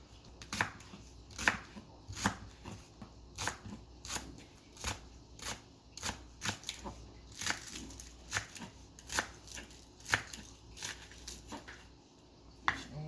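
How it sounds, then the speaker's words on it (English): Knife chopping washed scallions on a cutting board while cooking callaloo: a steady series of soft, crisp cuts at an irregular, quick pace, close and fairly quiet, with no talking. "I washed my scallion already, so I'm gonna cut them too."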